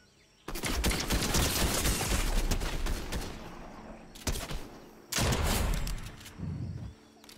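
Gunfire in the battle royale mode of the game Rise of Kingdoms, dense rapid bursts and explosions filling most of the stretch, loud and close, with a brief lull between volleys.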